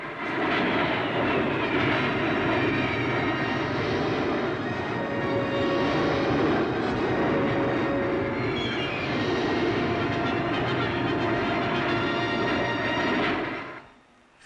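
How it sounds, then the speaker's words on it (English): Jet aircraft of a 1960s RAF aerobatic display team roar overhead during formation flying, a loud, steady, broad rumble that persists for about fourteen seconds before cutting off abruptly. "As the planes wheel and turn, they leave a trail of smoke so that every maneuver can be seen clearly from the ground."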